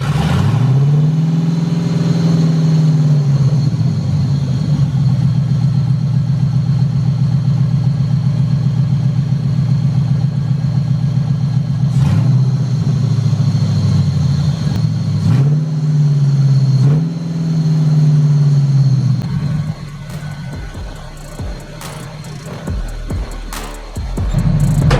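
Honda B20 VTEC engine running close by, a steady idle broken by several sharp revs that climb and fall back, with the idle hanging high after some revs, then a rougher, uneven stretch near the end.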